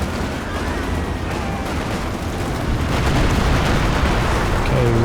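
Artillery in the WWII strategy game Company of Heroes 2 makes a continuous barrage of booms and crackling blasts over constant battlefield rumble that grows slightly louder toward the end, with a commentator's voice faintly underneath.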